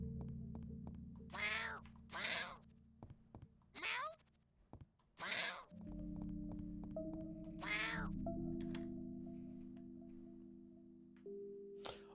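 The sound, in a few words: cat meowing in the video game YIIK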